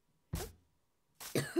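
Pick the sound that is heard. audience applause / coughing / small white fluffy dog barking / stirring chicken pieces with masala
coughing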